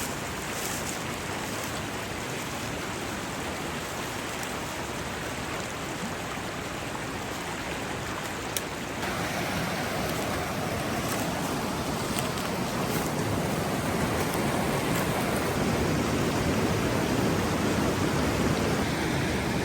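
River rapids rush in a steady broadband roar at a wooded homestead site, the water loud and constant throughout with no one talking.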